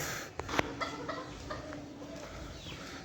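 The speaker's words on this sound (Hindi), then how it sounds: "ये कितने बड़े हो गए हैं हमारे चिक्स" Young chickens on a home pet setup clucking and chirping in short, scattered calls over a steady, moderately loud background, with a few sharper peeps standing out.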